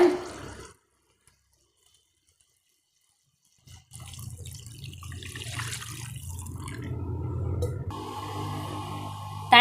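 After a quiet pause, water pours steadily into a pan, a continuous splashing stream that runs for several seconds, close and fairly loud.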